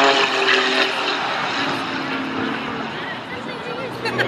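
Pitts Special biplane engine droning steadily overhead during an aerobatic display at an airshow, a continuous loud propeller roar with talk running over it throughout.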